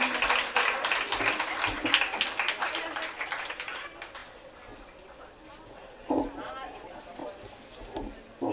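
Applause from an audience at a felicitation and prize distribution program for International Women's Day, dense clapping for the first few seconds that thins and fades, followed by scattered claps and a few short bursts.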